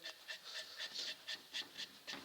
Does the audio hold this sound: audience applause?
no